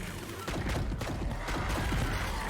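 Gunshots in the video game Crashlands: a series of punchy, close shots and thuds fire in a loose rhythm over a steady background hum.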